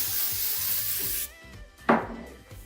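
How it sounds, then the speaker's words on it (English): A long hissing spray of hairspray runs for about a second, then stops, followed by a short second burst and faint rustling. "You need to spray."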